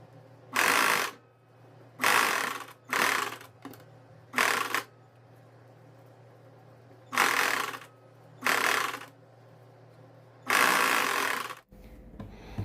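A sewing machine runs a long-stitch seam along the folded-back neckline of a kurti, in seven short, sharp bursts separated by pauses, with a steady low hum underneath and no voices.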